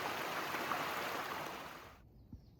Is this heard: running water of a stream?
yes